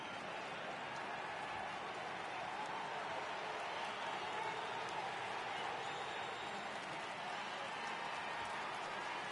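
A baseball crowd in a video game murmurs and rises in a steady, wide wash of cheering that holds evenly for several seconds at a moderate level, with no distinct voices.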